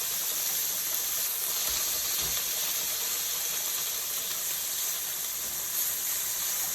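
Chopped bacon sizzles in a pan beside macaroni cooking for lobster mac and cheese, giving a steady, even hiss that runs unbroken throughout and stays fairly loud and close.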